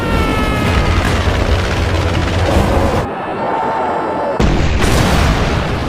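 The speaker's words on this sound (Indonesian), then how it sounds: "Ledakan besar pun menggema dari kejauhan." A big explosion from a bomb dropped by a plane, in a film: a loud, sustained rumbling roar that cuts off abruptly, then resumes with a fresh burst and rolling boom.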